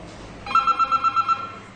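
A telephone bell rings in a short burst of about seven quick, evenly spaced trills, close and clear, against a quiet background with no voices.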